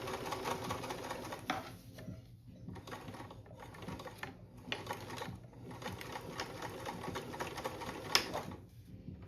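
A sewing machine stitching a zippered seat cushion cover, running in bursts of rapid mechanical whirring with short pauses between, close and fairly loud, while the bobbin thread gives trouble.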